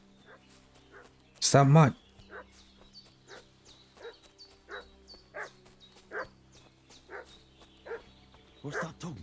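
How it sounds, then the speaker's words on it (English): A dog in Kingdom Come Deliverance 2 gives one loud burst of barking early on, followed by repeated quieter yips and barks at a steady pace, with someone talking over parts of it. "What's that dog making such a fuss about?"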